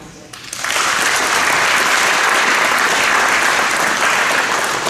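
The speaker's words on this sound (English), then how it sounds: "if you could give them a round of applause" An audience at a high school academic awards ceremony breaks into applause, a sudden surge of dense clapping that stays loud and steady to the end.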